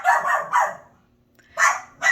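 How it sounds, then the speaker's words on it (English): A dog barks indoors in a kitchen, three quick barks close together, then a pause, then two more. The barks are moderately loud and close, with no other sound. "Lily, please stop barking."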